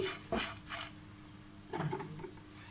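A spoon scrapes and knocks against a pan while stirring an okra fry with chili powder, a few brief clinks and scrapes in quick succession, fairly close and otherwise quiet.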